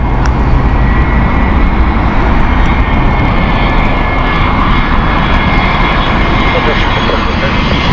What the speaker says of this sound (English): ITA Airways Airbus A320 is a lovely A320 from ITA Airways